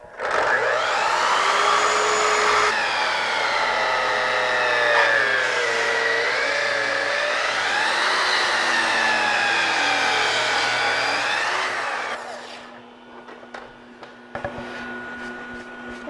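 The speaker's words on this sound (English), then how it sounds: "cut a miter at this piece." A miter saw cuts a wooden corbel piece for a Craftsman-style mantelpiece, its motor whining loudly and shifting pitch as the blade bites through the wood for about twelve seconds, then spinning down into a quiet hum.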